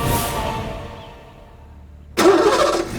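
Car engine cranking and catching partway through, then running loudly at a rough idle, close by with no voices.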